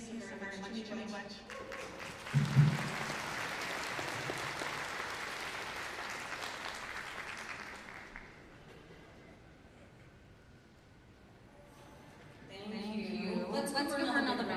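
A crowd at an Anishinaabe Nation gathering in Treaty 2 Territory breaks into applause, loud and steady for several seconds before tapering off into quiet, with a voice speaking over the room at the start and again at the end.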